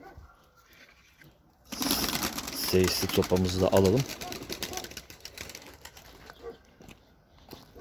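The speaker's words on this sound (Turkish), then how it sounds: "Bunların sesini duyan içerideki kümestekiler de kanat sesi yapıyorlar." Young pigeons and coop birds flap their wings in a sudden burst of fluttering, loud and close for a couple of seconds before settling into faint rustling, with someone talking over it.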